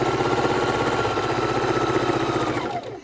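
A sewing machine stitches log cabin quilt block pieces in a fast, steady mechanical rhythm, running close and loud before slowing and stopping at the end.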